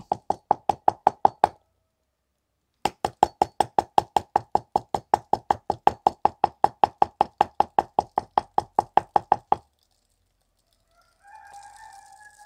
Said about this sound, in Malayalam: കാണുന്നില്ലേ ഇങ്ങനെ മുട്ടി കൊടുക്കുക